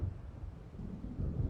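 Low, rolling thunder of an approaching storm in the video game Alan Wake, a steady deep rumble with swells near the start and end, moderately loud with no voices.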